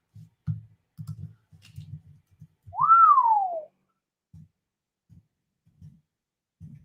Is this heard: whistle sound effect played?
yes